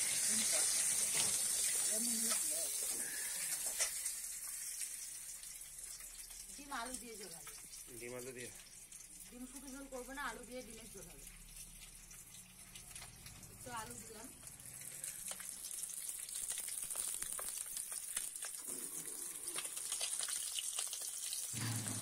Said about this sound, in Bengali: তো ডিমগুলো আমি ভেজে নিচ্ছি কড়াইয়ের মধ্যে ভালো করে।